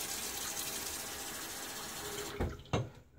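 Hot water runs steadily into a shaving mug at a wet-shaving setup, a continuous close gushing pour that cuts off near the end with a couple of brief splashes, no talking.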